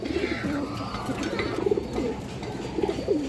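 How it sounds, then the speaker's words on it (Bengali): Female Muslodom pigeon cooing, soft repeated rolling coos close by over a noisy background, coming in short bursts through the clip with no talking. "এই দেখেন অনেক সুন্দর একটা মাদি কবুতর দর্শক"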